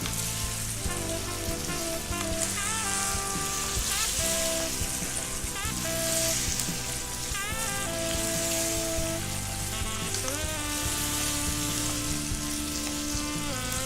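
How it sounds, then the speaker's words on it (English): Constant sizzling of lamb meat frying in a hot pan, a dense crackling hiss that stays steady throughout, with music playing underneath. "frying"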